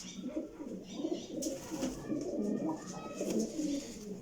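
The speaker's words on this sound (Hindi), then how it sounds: "यह भी टैडी गोल्डन का क्रॉस कबूतर जे।" A Teddy golden cross pigeon coos in repeated low, throaty phrases, close and clear, with a few faint chirps from other birds in the loft.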